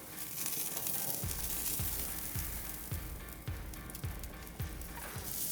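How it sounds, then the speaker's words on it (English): A steak sears in a hot pan, giving a continuous bright sizzle with a run of regular soft pops and spits about every half second, close and with no talking. "I can put my steak on, because I'm going to start with a little gentle sear"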